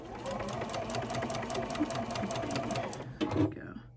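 A sewing machine runs steadily while stitching a quilt leader, a close, fast mechanical rattle with a regular stitch rhythm that slows and stops near the end, with a voice talking over it.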